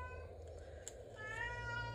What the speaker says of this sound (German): Oh, Katze.